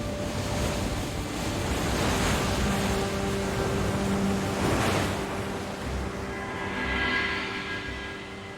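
Ocean waves surge and crash onto a rocky Australian seashore of stacks and arches, rolling in one after another with loud swelling wash and wind noise throughout.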